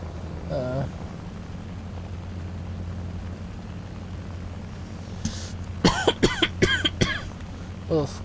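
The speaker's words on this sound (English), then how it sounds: "Oof, coughing." A person coughs several times in a quick burst near the end, close and fairly loud, over a steady low hum of an aircraft engine in a flight game.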